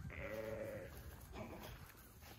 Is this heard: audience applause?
no